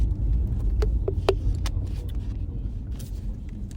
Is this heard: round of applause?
no